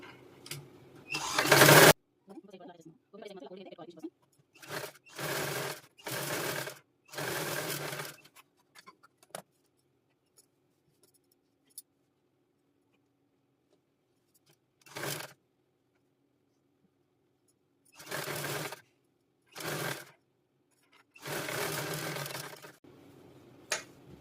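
A sewing machine runs in short bursts while stitching a princess-cut blouse, each whirring, rapidly ticking run lasting a second or two and separated by silent pauses, close up with no talking.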